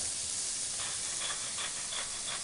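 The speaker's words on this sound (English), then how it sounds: "I love the smell of onions cooking" Onions cook in a pan with salt for baked beans, giving a continuous bright hiss and sizzle with faint pulsing surges, with no voices.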